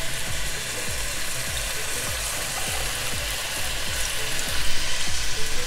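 Dried chili pods heat in water in a pot on the stove, giving a constant loud hiss and bubbling with regular low knocks and clicks underneath, close up and without talk.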